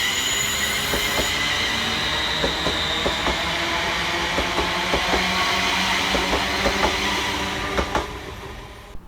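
A ScotRail Class 380 electric multiple unit pulls out of Paisley Gilmour Street station, with a steady rising motor hum, rhythmic wheel clicks over rail joints and a faint squeal throughout, with no talking.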